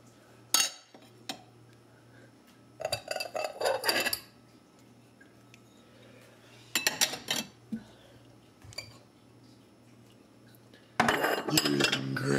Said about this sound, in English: Pointless video of me putting the clean dishes away.